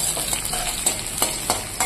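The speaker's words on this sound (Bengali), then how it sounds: "পেঁয়াজ ফোড়ন দিয়ে পেঁয়াজটা হালকা লাল লাল ভাজা হয়ে যাচ্ছে।" Oil sizzles steadily under frying onions, with periodic scraping strokes of a spatula stirring the pan, close and fairly loud.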